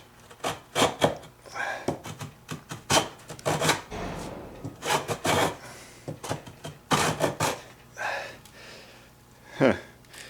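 Rasping, irregular strokes of an inexpensive Japanese hand plane pulled across a rough sawn wooden board, each shaving pass a short scraping burst, close up with a person's voice and breathing in between.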